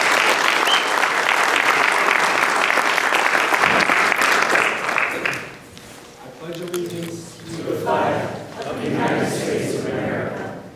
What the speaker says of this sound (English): let's give an extra round of applause to our latest Eagle Scout